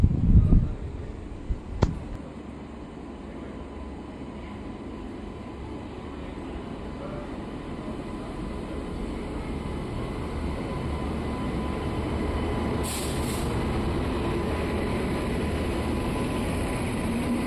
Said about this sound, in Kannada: ಇದೇ ಟ್ರೈನ್ ಹೇಳಿದ್ದು ನಾನು, ಈ ಟ್ರೈನ್ಗೋಸ್ಕರ ವೆಯ್ಟ್ ಮಾಡ್ತಿದ್ದಿದ್ದು